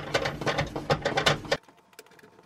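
Wrenches working a fitting while installing a Furrion RV range, a quick run of close metallic ratcheting clicks for about a second and a half, then a few faint scattered ticks in near quiet.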